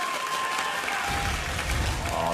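Esports arena crowd at a 2014 North American League of Legends Championship Series match breaks into loud, sustained applause and cheering, a dense wash of clapping that swells after the first second and fills the hall.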